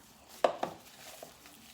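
Meatball mixture being mixed in a bowl, heard as two quick close knocks against the bowl and a fainter tap after them, with no talking.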